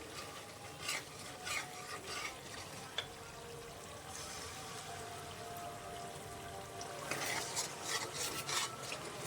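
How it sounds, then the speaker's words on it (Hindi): Bottle gourd halwa stirred steadily in a pot with a spoon, a continuous scraping and rubbing with faint sizzling underneath, occasional louder scrapes standing out, fairly quiet and close, no voices. "मुसलसल हम इसको चला रहे हैं।"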